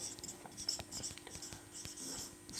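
Chalk or marker scratches across a board in short strokes and taps, faint and close, with no talking.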